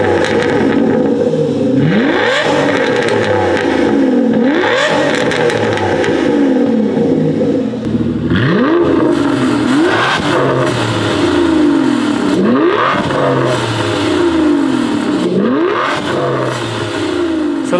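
An Aston Martin Vanquish V12, built from two Ford V6 Cosworth engines joined into one, revs repeatedly nearby, each throttle blip rising and falling in a loud, steady cycle with no talk.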